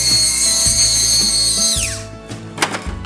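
A small power drill boring a hole in porcelain for a staple repair, a steady high whine that winds down, then a few light clicks and handling sounds.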